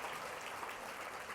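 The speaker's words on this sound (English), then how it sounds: "Let's give a round of applause to that." Applause from an audience at an evening benefit event, a steady wash of many hands clapping at moderate distance, even and sustained without any voices on top.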